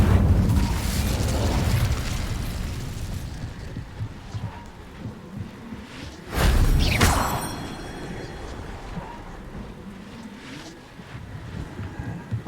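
A sudden whooshing burst of an Incendio fire spell erupts in Hogwarts Legacy, a short loud flare rising above a low windy ambience and then fading.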